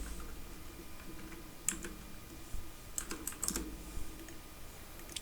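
Computer keyboard typing, a short burst of scattered key clicks with a few louder taps, close and fairly quiet over a faint steady background.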